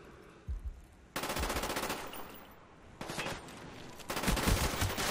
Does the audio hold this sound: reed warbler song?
no